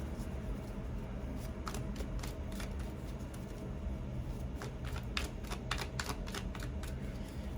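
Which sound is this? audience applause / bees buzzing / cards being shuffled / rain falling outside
cards being shuffled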